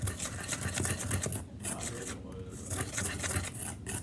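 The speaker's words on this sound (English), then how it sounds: "I'm just going to combine, whisk that together well" Dry sugar cookie ingredients whisked together in a bowl, producing a rapid, rhythmic scraping rasp that is loud and close, with a short pause near the middle.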